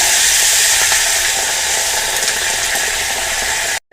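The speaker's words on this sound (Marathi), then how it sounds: "आता आपण ह्याच्यामध्ये पाणी ॲड करणार आहोत, गरम पाणी आहे मसाल्यामधलं" Hot water poured into spiced masala on an iron tawa while cooking stuffed brinjal gives a loud, close, hissing sizzle that holds steady for a few seconds, then cuts off abruptly.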